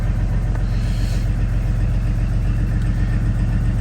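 Starboard engine of a sailing catamaran running steadily after starting, a continuous low rumbling drone with a faint mid-range whine, close and constant throughout, no voices.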